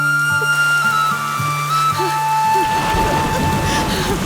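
Heavy downpour with a deep rumble of thunder, a dense hiss of rain growing louder in the second half, while a steady sustained tone plays over it.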